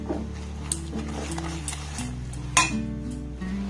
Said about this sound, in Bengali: আবার এটাকে একটু নাড়াচাড়া করে নেব।